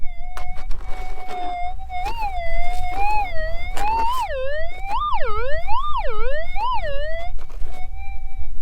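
A Minelab Axiom metal detector with a monoloop coil sounds its target response over a small piece of gold while prospecting: a steady tone that starts to warble and swoop up and down in pitch, loud and continuous over faint ground noise.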